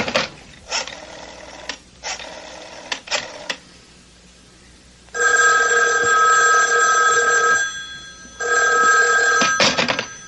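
A telephone in a 1974 radio drama rings in loud, bright electric bell bursts, several short rings followed by longer sustained ones separated by brief pauses, with no voices over it.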